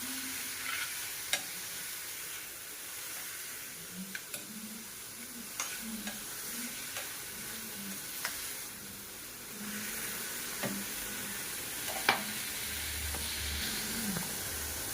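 Paneer bhurji with green chilli sizzling in a pan on a home stove, with a steady frying hiss and repeated soft scrapes of a spoon stirring, close and alone without talk.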